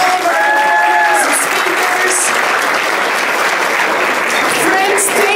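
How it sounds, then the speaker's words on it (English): A large audience applauds continuously and loudly at a Diwali celebration hosted by a government caucus in Alberta, a dense, sustained clapping that carries evenly through the whole stretch. "one more round of applause for all of our speakers."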